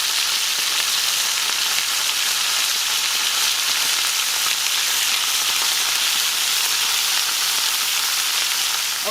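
Steak frying in a pan for a Mexican steak-and-onion dish, a loud, close, unbroken sizzling hiss that holds constant throughout with no talking.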